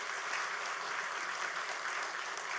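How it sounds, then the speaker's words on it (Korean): Audience applause for hospital director Park Jin-ho at the dedication ceremony of Yongin Severance Hospital, a fairly faint but even, dense crowd clapping that carries steadily through the short stretch. "우리 박진호 원장님한테 박수 한번 주세요."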